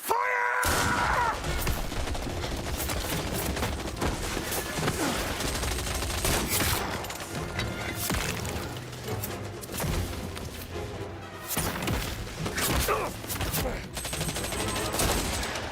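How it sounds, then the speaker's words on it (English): Dense, continuous gunfire in the action game Indiana Jones and the Great Circle, with rapid bursts and crashes filling the whole stretch and a voice briefly heard at the start. "They're gonna run out of bullets sooner or later. The way they're shooting, they'll have to reload"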